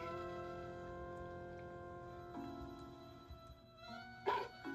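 A dog in the game Mother 3 gives a few soft barks and a whimper over steady electronic background music, with a brighter yip near the end.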